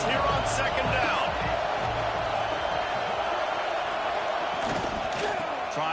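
A football stadium crowd of Alabama Crimson Tide fans roars steadily on third down at Saban Field, a loud, sustained wall of cheering with a few sharper whoops, and a commentator talks over it.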